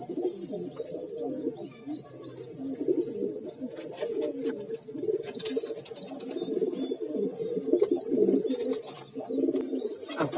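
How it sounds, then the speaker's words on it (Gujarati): Pigeons coo repeatedly in soft, overlapping low calls, with occasional higher chirps from other birds nearby; no talking. "બધા કબૂતર પૂરી દીધા છે"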